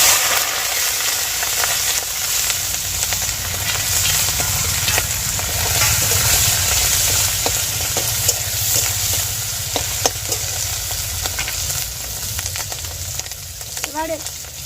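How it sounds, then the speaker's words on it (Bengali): Freshwater snails (gugli) frying in hot oil, a loud, steady sizzle close up with frequent stirring scrapes and clicks throughout. "তেল গরম হয়ে গিয়েছে, এবার গেঁড়িটা আমি ভেজে নেব।"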